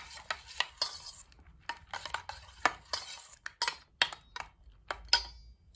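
Raisins, chironji and coconut slices are tossed together in a dish, producing a string of light, separate clicks and scrapes of a spoon against the vessel, quiet and close with gaps between strokes and no talking.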